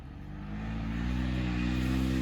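A turbocharged Pioneer 500 climbs a steep hill in second gear at part throttle, its engine holding a loud, steady drone that swells slightly as it pulls, with no voices.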